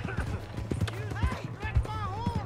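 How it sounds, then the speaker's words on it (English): Horse hooves clip-clop in quick rhythm in the Red Dead Redemption 2 video game town of Valentine, moderately close, with a horse snort and voices shouting over the galloping. "Hey, that's my horse!"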